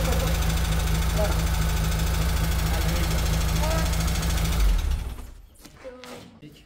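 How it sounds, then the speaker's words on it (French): A Volkswagen Golf 2 engine idles loudly and steadily after being restarted, then cuts off abruptly, leaving quieter background noise and faint voices. "on a réussi à démarrer sans trop de mal en vrai"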